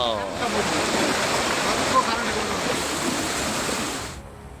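Loud, continuous rushing of floodwater from heavy rain pouring through streets in Mangaluru, a dense steady roar like a flooded stream pouring past, fading slightly at the very end.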